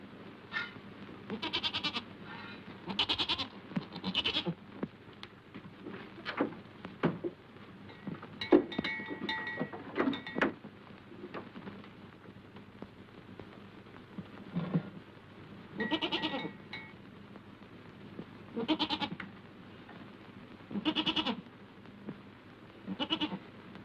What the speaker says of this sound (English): I think you're a beautiful goat.